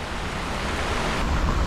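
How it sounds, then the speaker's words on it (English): Surf and gusting wind on the fringe of a cyclone in Fiji, a loud, continuous broadband roar of crashing ocean waves and buffeting wind noise throughout, with no voices. "Actual waves."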